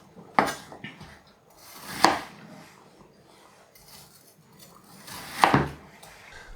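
An apple is cut into quarters with a kitchen knife, giving three sharp, close knocks on a board spaced a few seconds apart, with quieter handling noise in between.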